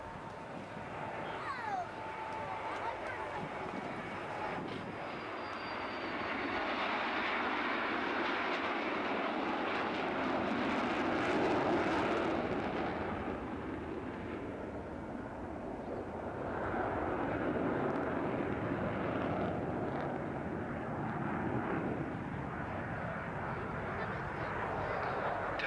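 English Electric Canberra PR9 jet flying past at an air display, a long broad roar that swells and fades over many seconds, distant and heard with an announcer talking over it.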